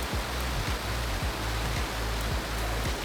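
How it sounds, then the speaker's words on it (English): Heavy rain pouring down at night in Bangkok, a dense steady hiss of falling water with a faint low rhythmic thumping underneath, continuous throughout. "it was pouring rain."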